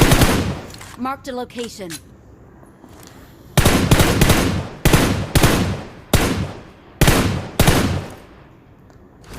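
Automatic gunfire in the battle royale game PUBG Mobile, heard as five loud rapid bursts at regular intervals, preceded by a short in-game voice line and a brief electronic chirp.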